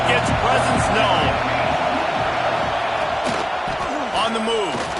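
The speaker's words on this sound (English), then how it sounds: "This crowd ready to make its presence known." Stadium crowd noise in a Madden football game, a dense continuous roar with scattered whoops and thuds, underneath a commentator talking.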